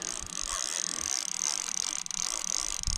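A fishing reel is wound tight with braided line, its ratchet giving a continuous fast, close clicking buzz that holds steady throughout with no voices.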